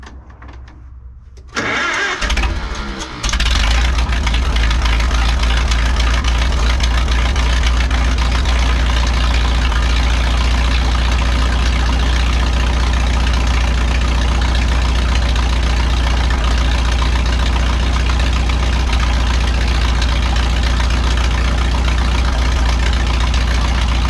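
Farmall M tractor engine cranking and catching, then running steadily at a loud, close, rough idle for a long stretch with no talking; the engine has a sputtering issue.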